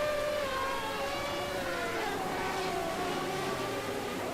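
Race cars in the Assetto Corsa racing game, eleven of them running nose to tail in trains during qualifying at Melbourne, produce a steady, continuous engine drone with shifting pitch and no talk over it.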